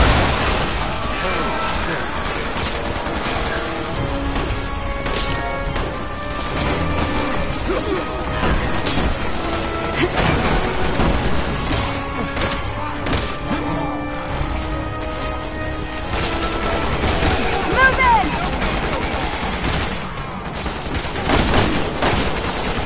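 Gunfire and crashing action from the video game Resident Evil 6, Helena and Piers campaign on PS5, loud and continuous across the clip with music and game effects, while voices talk over the shooting.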